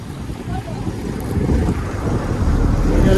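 Strong wind roars steadily across the deck of a fishing boat at sea, a dense, loud broadband rush with a low rumble of water and engine beneath, building slightly over a few seconds.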